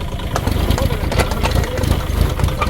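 A vehicle engine runs at a low, rumbling idle close by, steady throughout, while a person talks over it.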